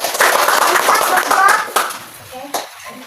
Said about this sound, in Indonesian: tepuk tangan untuk Isa.